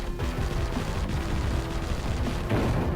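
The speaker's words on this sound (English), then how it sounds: "you explode one and it plays the same explosion animation of the basic Vulcan robot" A robot enemy blows up in a Mega Drive video game, a dense rumbling burst of explosion noise that fills the whole clip and swells again near the end.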